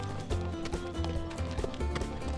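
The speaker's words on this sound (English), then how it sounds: "Spark neighed in agreement and galloped down the same path they had taken earlier" Galloping horse hooves played as a storybook sound effect, with rapid rhythmic clip-clop beats over soft background music and no speech.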